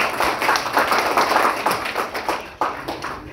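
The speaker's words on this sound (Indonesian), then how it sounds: "Tepuk tangan dulu." An audience claps at a police community meeting in TTU. The clapping is close and fairly loud, with uneven beats carrying on steadily and a brief dip near the end.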